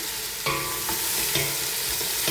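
Onions sauté in a pan for mutton biryani, a close, constant sizzle broken by several rhythmic scrapes of a spoon stirring.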